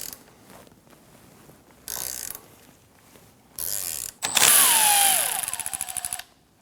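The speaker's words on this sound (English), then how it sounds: "we're going to break off the middle bushing that's being held together by an 18mm bolt and 18mm nut. Same method, 2 wrenches," Two wrenches counter-twisting an 18mm bolt and nut on the front lower control arm bushing of a 2009–2017 Audi Q5, short bursts of ratcheting clicks, ending in a longer rapid ratchet run with a squeaky metallic tone.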